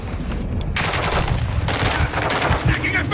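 Sustained gunfire in Call of Duty Modern Warfare 2 (2022), with loud rapid bursts of automatic fire over a dense low battle rumble, broken by short pauses.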